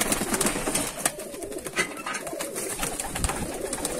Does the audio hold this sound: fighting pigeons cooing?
yes